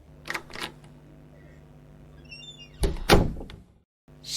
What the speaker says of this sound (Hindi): दरवाजा खोलने पर